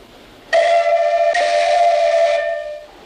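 A loud shrill whistle blast starting abruptly after a short quiet moment, holding steady for about two seconds before fading, with a slight break partway through.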